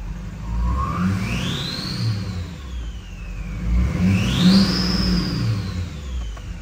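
A Duramax diesel truck with stainless drop-in five-blade turbos revs twice inside a shop, each rise bringing a loud, rising turbo whistle over a deep engine rumble that then falls back, heard close with no talk.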